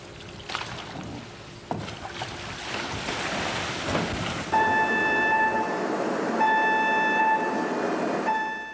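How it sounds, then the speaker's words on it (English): Crystal Symphony cruise ship general alarm whistle, sounding as steady loud tonal blasts that start midway, one long blast then another after a brief gap, over a constant low rumble of water and machinery. "What you are hearing is the general alarm."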